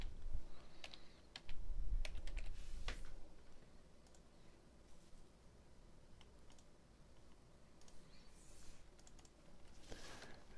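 Scattered keystrokes click on a computer keyboard, a few quick taps then sparse irregular presses, faint and close over low room hum.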